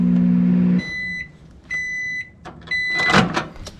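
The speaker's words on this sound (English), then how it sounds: "put it back into the microwave, and then we're gonna do it for another minute" Microwave oven heating plastisol for soft plastic fishing baits: a low steady hum cuts off, followed by three short bursts of high electronic beeps and a door clunk at the end, with no talk.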